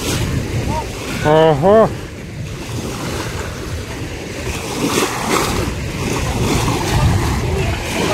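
Sea waves wash continuously onto a beach with wind buffeting the microphone, and a voice briefly speaks near the start.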